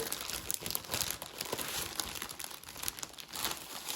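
Packaging for a journal-making kit of papers, fabrics, trims, beads and charms crinkles and tears open, a dense, steady run of close plastic and paper rustling with no talk.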